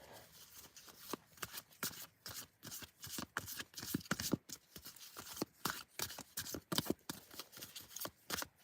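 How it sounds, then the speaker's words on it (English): Tarot cards are shuffled by hand in quick, repeated riffling bursts with short pauses between, close and soft, continuing rhythmically throughout. "I'm just going to pull one more card on yours as well"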